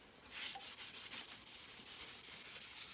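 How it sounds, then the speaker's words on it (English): A rag wipes grease and dirt off a clutch flywheel from a Mercruiser 120 marine engine, giving steady repeated rubbing strokes in a fairly quiet, close setting. "wiping off all the grease"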